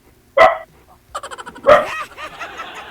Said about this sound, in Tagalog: Ayun, aso na.